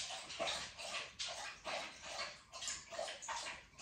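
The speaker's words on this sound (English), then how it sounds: "My dogs are now, of course, drinking water because they always do this." Dogs lapping and drinking water from a bowl, a series of wet, rhythmic slurping splashes in quick bursts, close and fairly faint, with no talking.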